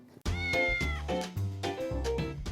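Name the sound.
stray cat meowing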